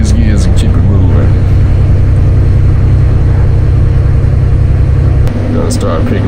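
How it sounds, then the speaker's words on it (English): A Freightliner truck with a 13-speed flat-top gearbox, working oilfield routes, gives a loud, steady, close-up engine drone. Near the end the drone drops to a lower pitch as the gear changes. "Let me shift these gears and keep it moving"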